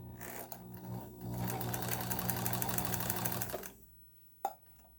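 A Kenmore 158.1603 sewing machine runs close and quiet, a steady rapid mechanical stitching whir for about three and a half seconds before it stops, followed by near silence and a single sharp click.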